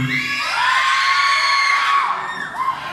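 Loud audience cheering at a gay beauty pageant in Cabanatuan City, high-pitched whoops and sustained shrieking yells from many voices, swelling then briefly dipping before rising again.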